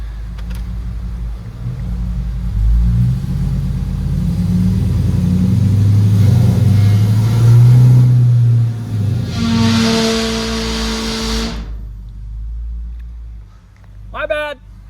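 A Hemi V8 car engine, 5.7L or 6.4L, revs on a dyno, a loud low rumble that climbs and surges for several seconds before cutting off abruptly into near silence.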